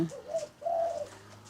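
A spotted dove gives two soft, hollow coos close by, the second longer than the first, against quiet background hiss.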